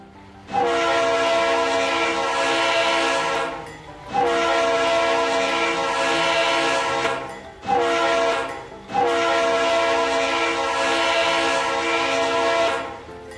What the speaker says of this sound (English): Their horns were equipped with RS3Ls.